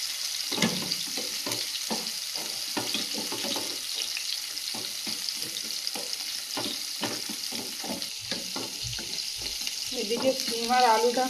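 Fish frying in oil in a frying pan, a continuous close crackling sizzle with frequent sharp pops and spatters, growing slightly busier toward the end.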